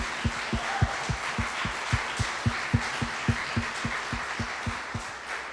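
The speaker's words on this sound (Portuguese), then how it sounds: "Você pode aplaudir o Senhor." A church congregation claps in a steady rhythm, roughly four muffled beats per second, heard from a distance over a wash of room noise, with no voices.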